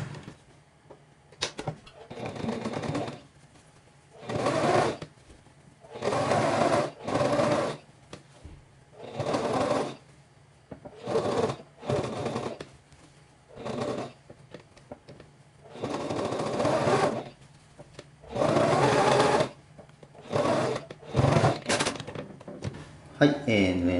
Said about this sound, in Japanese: ここを、上から2センチで、ずっと縫っていきます。